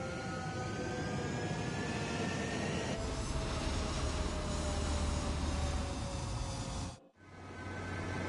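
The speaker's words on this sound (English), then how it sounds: "Column Squadron, take off." Fighter jets taking off in the video game Ace Combat: a steady, loud roar of jet engines with a thin whine running through it, briefly cutting out near the end before the roar resumes.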